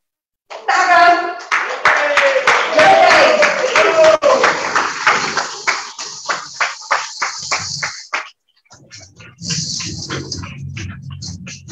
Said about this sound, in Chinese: 那么谢谢大家的掌声